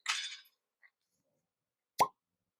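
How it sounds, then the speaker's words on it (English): A cork pulled from a Buffalo Trace single oak rye bourbon bottle gives a soft, dull single pop after a brief rustle and a tiny clink, close and quiet with no talking. "Kind of a dud cork pop"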